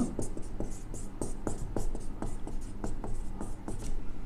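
Handwriting during an algebra math lesson, heard as rhythmic, close scratchy strokes and taps repeating steadily over a faint background hum.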